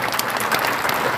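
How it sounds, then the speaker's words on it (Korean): An audience at a church gathering applauds, a dense, even wash of many hands clapping at close range that holds steady for a brief moment. "박수 한번 쳐주시죠"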